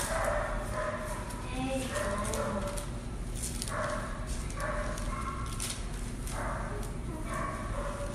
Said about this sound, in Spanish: a él le ladran mucho los perros